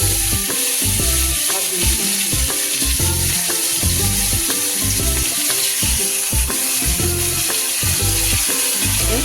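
Catla fish pieces fry in hot oil spiced with dried red chili and whole garam masala, giving a dense, loud, continuous sizzle with rhythmic stirring and clattering in the pan, close up.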